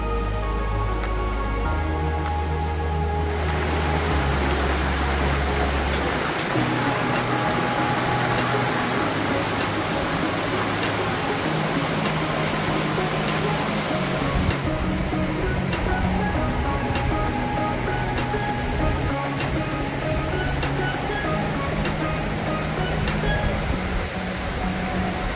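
Waterfall and rapids in the Gran Sabana, with water roaring as a steady, dense, broadband rush that never lets up. A low droning hum sits underneath during the first few seconds.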